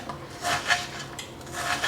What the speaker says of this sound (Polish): wkroję sobie te pół cebuli